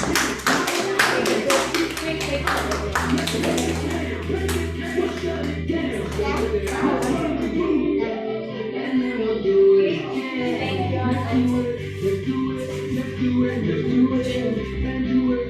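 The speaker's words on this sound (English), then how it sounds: "Give him a big round of applause, please." Audience clapping at a summer voluntary pre-kindergarten graduation ceremony, a loud, dense run of applause lasting the whole stretch, with voices and some music-like tones mixed underneath.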